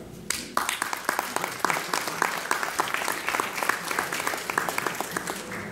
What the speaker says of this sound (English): if you want to clap after each one, that's fine, or clap at the end